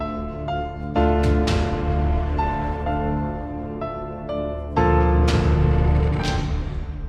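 Native Instruments Low End Strings cue: deep sustained strings under a piano melody split into low and high parts, with notes and swells layered throughout.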